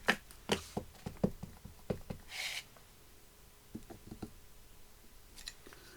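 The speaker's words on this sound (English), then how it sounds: "I'm going to stamp it and see if it'll cut out with my inch punch." A one-inch hand punch cuts a circle out of stamped paper, giving a quick run of crisp, close snipping clicks, a short rasp, then a few softer scattered taps in a quiet room.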